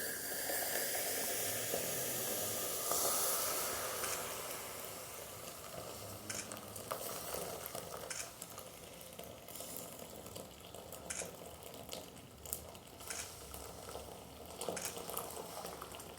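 Strained tea hits a heated clay kulhad for tandoori chai, giving a soft steady hiss and sizzle with faint stirring clinks, close and quiet, no talking.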